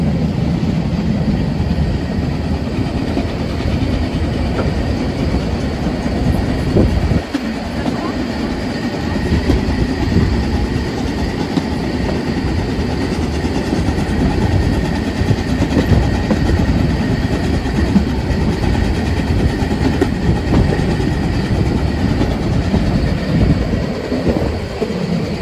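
A train on the Brocken railway rumbles loudly and continuously from on board, with rhythmic wheel clatter and a heavy low roar throughout.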